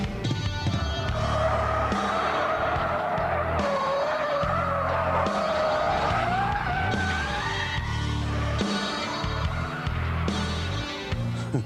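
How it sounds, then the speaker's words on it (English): A 370 horsepower supercharged Jaguar spinning its wheels with traction control off, tyres squealing in long wavering screeches over a loud revving engine, sustained and close without speech. "Let's start the experiment in this 370 horsepower supercharged Jaguar by turning the traction control off."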